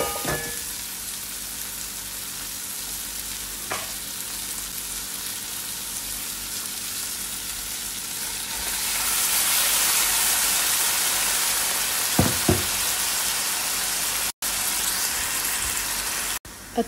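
Shrimp cook in a tomato and biryani-spice mixture with a steady close sizzle. It swells louder midway, and a few utensil clicks and taps sound over the frying.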